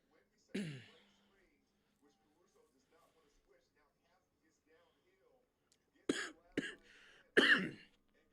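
A sharp cough near the start, faint murmuring in the background, then a cluster of three harsh coughs close to the mic toward the end, during a basketball game livestream.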